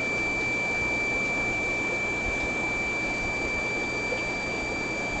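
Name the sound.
rotary blower air system in a fish room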